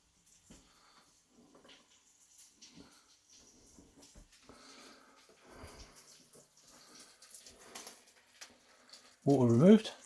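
Water is drained off onions in a kitchen: a sudden loud pour and splash near the end, after a long stretch of faint background clatter and soft sounds.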